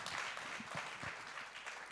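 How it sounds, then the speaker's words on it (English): Audience applause at a digital forum in Riga, a continuous wash of many hands clapping across a hall, heard from a distance and fairly faint. "I'd like to give a round of applause for Aigars, Marina, and Janis."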